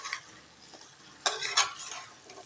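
A spoon scrapes and stirs vegetable masala curry in a pan, with a few soft clinks early on and then a brief burst of louder scraping strokes over a faint sizzle.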